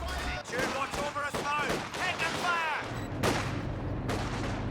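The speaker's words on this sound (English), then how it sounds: "As long as they survive these Katyusha barrages." Katyusha rocket barrages in Company of Heroes 2 rumble and crack beneath steady commentary, with several bursts of impacts and a low booming tail near the end.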